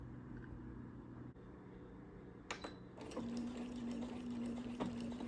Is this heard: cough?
no